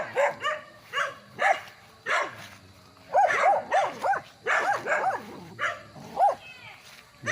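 A dog barks repeatedly on a farm lot in Magdalena, Laguna, loud and close in a steady run of sharp barks with short yips mixed in.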